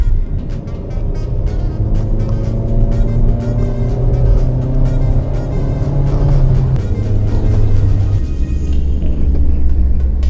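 Car engine revving hard under kickdown acceleration on a test drive, a loud continuous rumble with rising engine tones and gear shifts, close and steady throughout with no talking.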